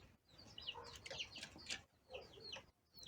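Chickens gathered in a village yard on a hot day give soft, faint clucks and chirpy calls in short scattered bursts, heard at a distance without talk.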